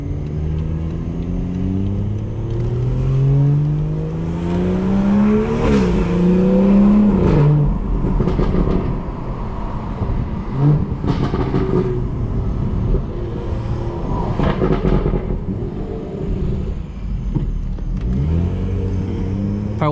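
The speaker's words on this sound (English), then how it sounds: "I kind of want you guys to just hear the car and just enjoy" A tuned BMW 440i engine revs and accelerates loudly, pitch climbing through gear changes with a throaty rumble, close by and without talk.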